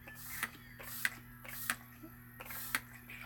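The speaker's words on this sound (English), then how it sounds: "I feel like I sprayed my hair more than I did my face" Makeup setting spray is misted from a pump bottle in four quick, evenly spaced spritzes. Each one is a short click-and-hiss burst over a faint, quiet room hum.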